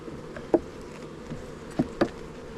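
Honeybees drone in a continuous low buzz at a Capella Ranch bee hut during a hive inspection, with a few soft knocks and thumps from handling the frames.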